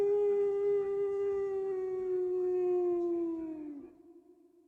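Long, loud howl from a dog or wolf, played as a sound effect during a tabletop role-playing session; one sustained tone glides slowly downward for about four seconds and then fades out, with no talk over it.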